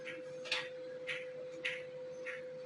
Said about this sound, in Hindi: अब मैं सिलाई लगाऊंगी।